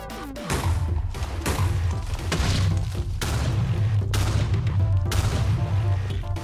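Rapid string of booming gunshots from a steam-powered gun in the Minecraft Flaxbeard's Steam mod, about six loud blasts with sharp onsets and low rumbling tails, fired one after another over steady game background noise.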